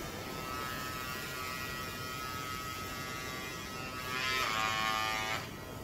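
Electric hair clippers whir on turbo at a steady close buzz, rising briefly louder and higher toward the end, used to trim an olive bonsai stump.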